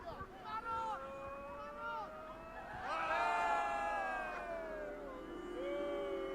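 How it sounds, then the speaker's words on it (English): A big stadium crowd reacts as security catches a young pitch invader, a wash of cheering and whooping that rises strongly partway through and holds at a loud, dense level. "Listen to the crowd, it didn't make me laugh."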